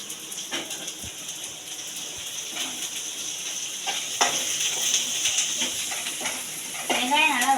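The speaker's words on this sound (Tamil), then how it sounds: "வெங்காயம் நல்லா வதங்கி வரட்டும் காய்ஸ்" Onions sautéing in a pan with curry leaves added, a soft steady sizzle with faint stirring scrapes and a brief voice near the end.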